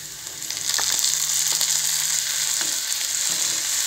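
Tomatoes added to browned onions frying in a pan, a steady close sizzle with a few soft stirring knocks, alone without talk.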